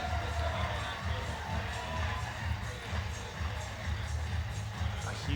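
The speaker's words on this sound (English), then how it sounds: "the crowd have provided the archers with plenty of atmosphere and plenty of support" Crowd at an archery World Cup recurve final in Rome cheering and calling out, a soft, distant, continuous roar with scattered shouts and voices.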